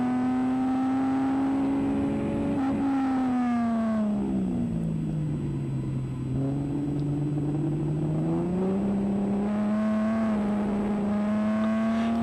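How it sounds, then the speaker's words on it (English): An HQ race car at the Hidden Valley hairpin, its inside rear wheel spinning, gives a loud, steady engine drone that sags in pitch, then climbs again as the revs build. "You can hear that inside back wheel just spinning there."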